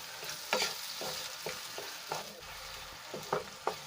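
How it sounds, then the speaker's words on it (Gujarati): A spoon stirs two large peeled, grated tomatoes into onions frying in a pan for a cluster bean curry, with repeated scraping strokes over a soft, steady sizzle. "તો સરસ રીતે ડુંગળીમાં મિક્સ કરી લઈશું।"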